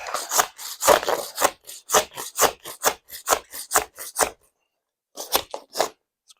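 A razor scraper rasps dried glue off a work surface in a quick run of short, crisp strokes, close and loud, then a pause and a few more scrapes.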